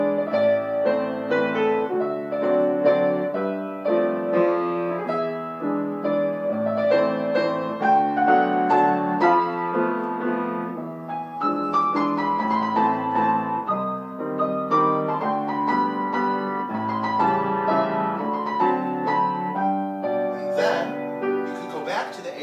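A piano plays a flowing waltz accompaniment, the bass sounding on the downbeat with chords after it in a lilting three-beat pulse, moving through a contrasting phrase at a moderate, even volume with no talking.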